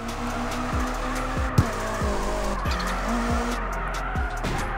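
A car drifting in the mobile game CarX Drift Racing, its engine revving up and dropping repeatedly in a steady cycle of gear shifts, with tire squeal and skidding layered over it.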